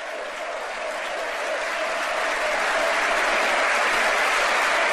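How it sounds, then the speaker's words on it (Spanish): Stadium crowd ovation for a football player during a Racing match, a vast roaring wash of clapping and cheering that swells steadily louder over the whole stretch. "Miren la ovación para la Pantera."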